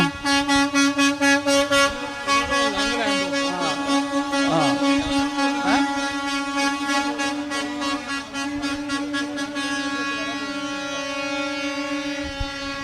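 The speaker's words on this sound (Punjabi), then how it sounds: "ਟਰੱਕ ਹੌਰਨ ਵਜਾਉਂਦੇ ਹੋਏ ਲੰਘਣ ਡਏ ਆ।" Trucks sound loud, sustained air horns as they pass during a trucking protest in Sacramento, a few rhythmic blasts followed by long overlapping honks that drone on with engine noise beneath.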